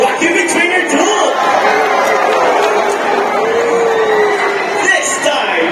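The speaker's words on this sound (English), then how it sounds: "A round of applause" Audience at a bird show in Manila Ocean Park cheering and clapping for a trained bird's counting trick, a loud continuous crowd roar with whoops throughout.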